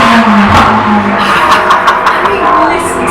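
A Mercedes AMG race car passes close by, its loud engine note revving and then fading, with sharp transient bursts as it goes, heard through an open door.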